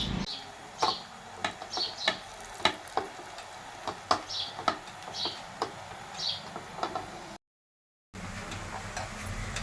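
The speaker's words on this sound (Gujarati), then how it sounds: "હું ગાંઠિયાને તરતી જાઉં છું, કાઢતી જાઉં છું" Gathiya, a crisp gram-flour snack, fry in hot oil as Bhavnagari-style strands are pressed into the pan, giving a steady sizzle with repeated sharp crackles, close and moderately loud, briefly cutting out near the end.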